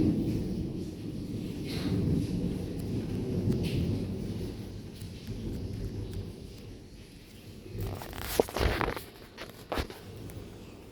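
A severe thunderstorm with strong winds produces a continuous low rumble of thunder and blustery wind, with a burst of sharper crackling and rustling noise near the end.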